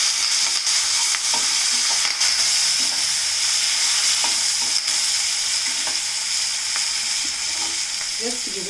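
Curry leaves sizzle and fry in a pan while being stirred, a steady loud crackling hiss with intermittent scraping stirs throughout.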